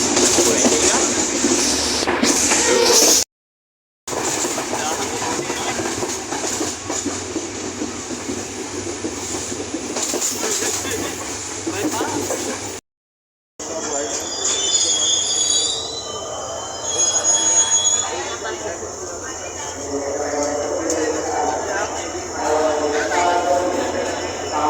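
A train on the way to Anuradhapura runs with loud, high wheel squeal and rumbling carriage noise, interrupted by two brief silent gaps; near the end a voice talks over the quieter rolling sound.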